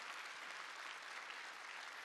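Church congregation at a Sunday worship service claps together, a soft, distant wash of steady applause that continues evenly without pause or speech.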